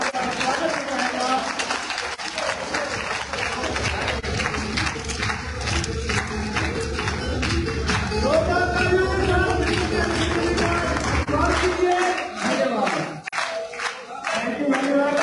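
An audience at an education conference in Pakistan claps to welcome a speaker onto the stage, sustained applause and crowd noise running throughout with voices mixed in before it fades near the end.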